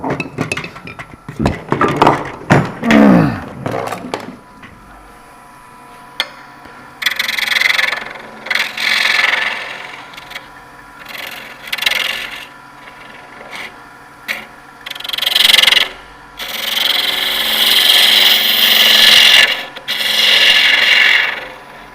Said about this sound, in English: This is a scraping cut.